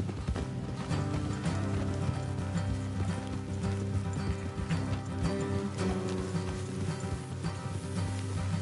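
Horses clip-clopping along a road in Red Dead Redemption 2, steady hoofbeats under a low rumbling game soundscape, moderately quiet and continuous.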